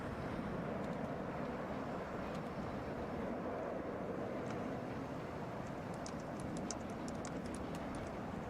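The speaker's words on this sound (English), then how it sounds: "That is flight 806 coming in from Las Vegas." An Airbus A321 arrives at Atlanta airport after a flight from Las Vegas, heard as a steady, broad roar of jet engines that holds at an even level throughout, without any talk.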